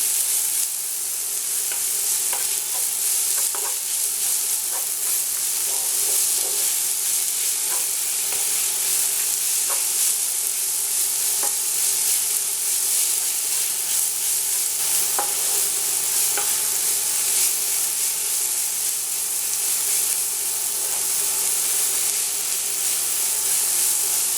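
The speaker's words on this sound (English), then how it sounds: "We're going to add our carrot and celery that we grated before. And we're going to cook those down as well." Grated carrot and celery cook in a pan for Greek rice pilaf, giving a steady, close sizzle throughout with scattered light scrapes and taps of stirring.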